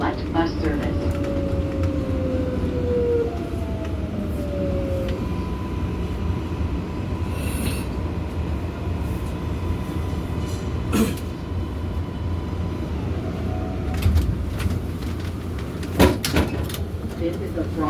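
An R142A 6 local subway train in New York rumbles steadily along with rising and falling motor whines, door and car noises and occasional sharp clanks, while a voice speaks over the ride.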